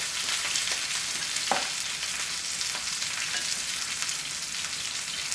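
Cut-up pork pieces hit a hot pan, raising a steady, loud, close sizzle of frying with a brief scraping stir partway through and no talking.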